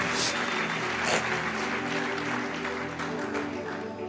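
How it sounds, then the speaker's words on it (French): A church congregation breaks into sustained applause, a dense, even roar of clapping from many hands filling the room throughout. "Acclamons encore pour le Seigneur"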